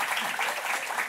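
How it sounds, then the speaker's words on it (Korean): A church congregation claps at a worship service, a dense, even burst of applause lasting about a second. "다시 한번 인사하실 때 큰 박수 부탁드립니다"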